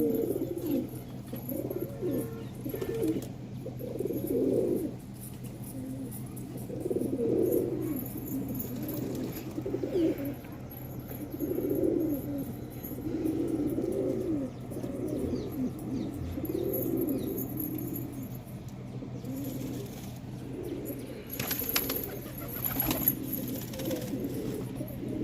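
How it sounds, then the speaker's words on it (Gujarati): Pet pigeons coo in repeated soft, throaty phrases, several birds calling close by in a steady rhythm, with occasional chirps and faint background noise and no talking. "આ કબૂતર તમને કેવા લાગ્યા કમેન્ટ કરજો."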